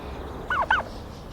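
Two quick, close gobbles from farm-raised turkeys, short warbling calls back to back in a quiet yard.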